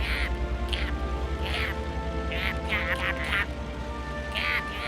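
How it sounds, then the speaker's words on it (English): Several ducks quack in repeated short bursts, fairly close, over a steady low rumbling drone that runs throughout. "if you listen closely, these ducks will tell you exactly what they're doing"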